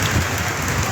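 Steady rain pours in Sylhet during a sudden storm, a loud, dense, even hiss of drops striking surfaces with no voices.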